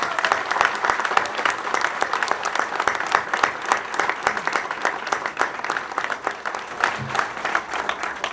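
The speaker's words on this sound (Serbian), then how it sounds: "Jedan aplauz, molim vas." A crowd at a political ceremony in Serbia applauds in a dense, continuous burst lasting several seconds. It is fairly loud and close, with many overlapping hands and no talk over it.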